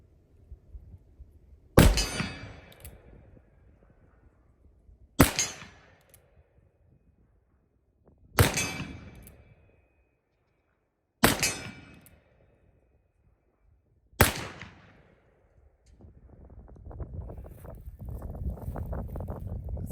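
Five loud black powder shots ring out from a single action revolver fired at a target about 25 yards away, evenly spaced roughly three seconds apart, each with a sharp crack and a short ringing tail, followed by wind rumble outdoors.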